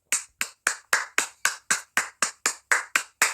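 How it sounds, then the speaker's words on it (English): Single pair of hands clapping in a slow, even rhythm, a dozen sharp close claps spaced evenly, recorded alone without talk, at a dancehall artist discussion. "round of applause, man."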